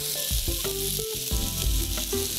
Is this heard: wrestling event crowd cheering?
no